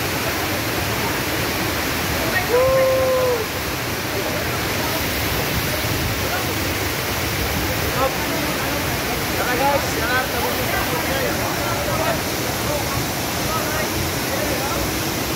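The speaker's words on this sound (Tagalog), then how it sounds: "Ang pinakataas na falls dito sa Maragusan." The highest waterfall in Maragusan roars as a constant dense rush of falling water, loud and close, with voices talking over it.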